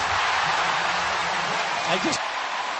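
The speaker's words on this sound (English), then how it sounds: "Much to the delight of the Miami crowd" A Miami basketball arena crowd roars and cheers after a Heat play, a dense, continuous wash of noise throughout, with a commentator's voice faintly underneath.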